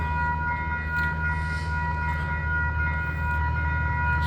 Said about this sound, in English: it looks like another passenger train coming down.